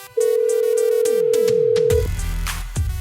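A loud steady electronic tone sounding for about two seconds, then broken by a jumble of beeps and clicks as a phone call connects.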